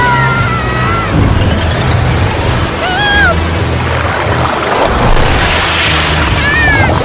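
Floodwater rushes and swirls through a cartoon scene, a loud, constant wash of water and wind noise with whooshing effect tones rising over it.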